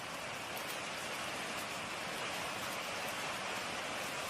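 Steady, dense rain hisses evenly in an animated cartoon scene, a constant wash of noise with no pauses or voices.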